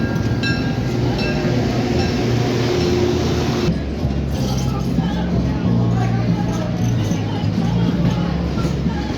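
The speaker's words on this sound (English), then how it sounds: "it's really pretty much pulled by our 6777 diesel locomotive that was built in 1959, one of CVSR's Alco fleet of locomotives" A 1959 Alco 6777 diesel locomotive pulls a Cuyahoga Valley Scenic Railroad passenger train, producing a steady, loud engine drone and rolling rumble heard from on board, with people talking over it.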